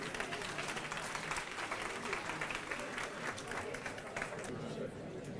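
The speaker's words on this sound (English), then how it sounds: "How about a nice round of applause for Ian?" Sustained audience applause for a presenter at a neighborhood best practices conference, a dense steady wash of many hands clapping at even loudness throughout, with a few voices faintly mixed in.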